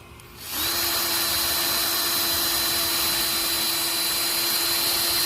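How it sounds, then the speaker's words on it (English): A power drill spins up after a brief pause and runs steadily at high speed buffing a headlight lens, a loud continuous whine with a buffing hiss, no talking. "you don't want to let the drill just run wild and do its own thing"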